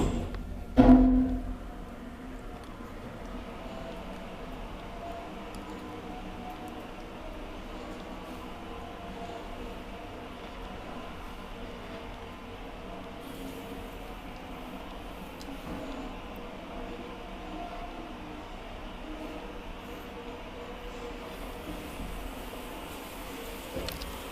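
An old Kone traction elevator runs in an apartment building in Brevik, Lidingö, Sweden, giving a steady low mechanical hum and rumble with a brief louder clunk at the start, then an even drone throughout.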